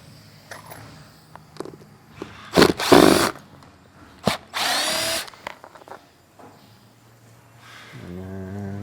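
Power drill backing screws out of a golf cart seat for a cover install on an Evolution cart: several short, loud whirring bursts with quiet pauses between, then a softer electric hum at the end.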